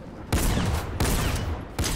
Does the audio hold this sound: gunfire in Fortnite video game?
yes